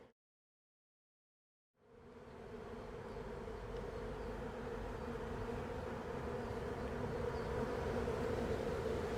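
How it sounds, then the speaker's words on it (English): Honey bees from a three-pound package buzz in a dense, steady drone during installation into a hive, starting abruptly after a short silence and holding loud and continuous, close by. "I have bees all over me."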